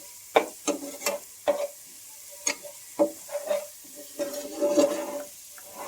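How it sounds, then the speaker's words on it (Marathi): Fresh curry leaves from a home-grown plant hit hot oil with a soft sizzle, while a spoon scrapes and clinks sharply against the pan at irregular intervals, close up. "कढीपत्ता टाकते आपल्या झाडाचा ताजा ताजा कढीपत्ता आहे"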